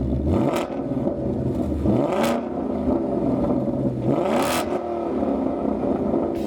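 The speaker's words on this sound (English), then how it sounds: "we fixed that using the Corsa Sport 3-inch catback exhaust, and here's how it sounds" A 2024 Ford Mustang GT S650 V8 fitted with a Corsa Sport 3-inch catback exhaust revs repeatedly, each throttle blip rising and falling in a deep, loud burble, with a steady rumble between the rises. A single brief word is spoken.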